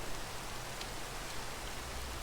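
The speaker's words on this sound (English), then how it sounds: "I find myself yet again in the rain" Steady broadband hiss of rain falling in the video game Minecraft at night, a continuous even wash of patter with no talk.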